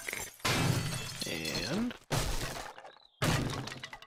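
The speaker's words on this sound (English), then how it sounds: "I'll just break this door real quick" A wooden door being smashed in 7 Days to Die, three loud crunching, splintering blows separated by brief silences, with someone talking over them.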